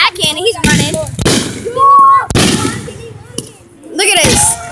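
Fourth of July fireworks fired from a cannon at a fireworks show pop in several sharp bursts spread across the moment, mixed with loud, excited talking nearby.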